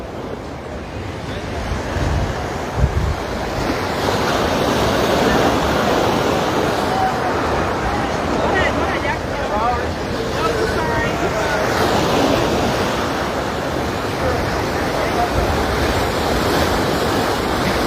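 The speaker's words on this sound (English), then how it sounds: "Man, those waves are cranking over there." Ocean waves crashing on a Hawaiian shore under strong wind as a hurricane passes offshore, a continuous loud roar of surf and gusts with no pause throughout.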